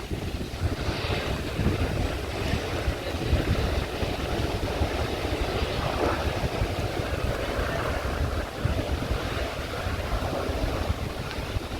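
A ferry pulls away across the water toward Divar Island in Goa, with a continuous broad rumble of engine, water and strong wind buffeting the microphone.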